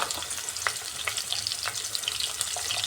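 Thinly sliced green chili and a large onion frying in hot oil for a mutton liver fry, a dense, crackling sizzle with quick stirring strokes, close and uninterrupted by talk.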